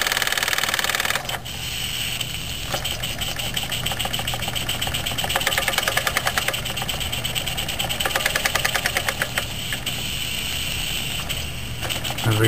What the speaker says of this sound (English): A gutsy little engine, little SE2A.